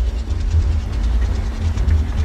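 A WDM 4A diesel locomotive hauling ICF coaches rolls in within the MSTS train simulator, giving a steady loud low rumble with faint rhythmic wheel clatter throughout and no voices.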